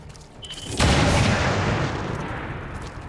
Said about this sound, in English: let's take a shot with the Shadowkeeper here to do at least a bit more damage